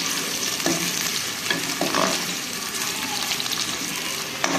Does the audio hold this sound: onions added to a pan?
yes